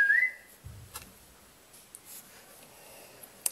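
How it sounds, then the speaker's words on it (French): A person gives a short, bright whistle right at the start, loud and close, followed by quiet room sounds with a few faint clicks. "C'est ma soeur qui a sifflé."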